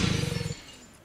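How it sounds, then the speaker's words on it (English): A crashing sound effect of pots and pans in the Mansions of Madness board game app: a short burst of clattering, shattering metal and glass-like crash that cuts off abruptly and leaves a fading ring. "The silence is broken by muffled shouts and sounds and crashing pots and pans coming from the door on your left."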